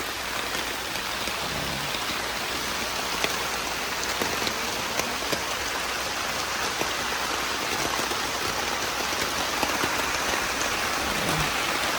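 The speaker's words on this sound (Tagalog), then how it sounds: "So yun guys, medyo maulan ngayong umaga." Morning rain falls steadily at a lake campsite at Chandava Lake, a dense, even hiss of drops on surfaces with occasional louder patters, continuous and close, with no voices.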